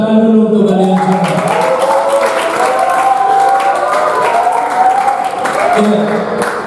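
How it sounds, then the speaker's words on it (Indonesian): An audience at a school project presentation claps together in sustained applause while a voice carries over the sound at the start. "Tepuk tangan dulu untuk kalian semua."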